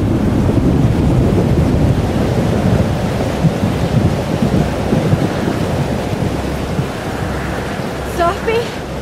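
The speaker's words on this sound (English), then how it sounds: "Remember what I told you about Arcadia Bay? About the storm? It's happening again!" A thunderstorm in the video game Life is Strange: Double Exposure gives a dense, continuous roar of wind and rumbling thunder, loud throughout, and a few faint high tones come in near the end.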